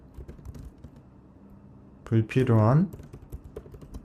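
Steady light clicking of computer keyboard typing runs throughout, with a brief spoken word cutting in over it midway.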